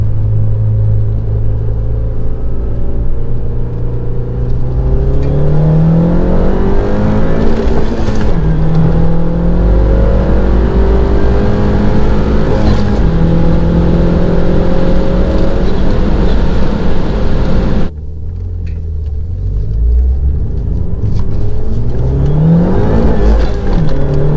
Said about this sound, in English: We'll do a second gear pull.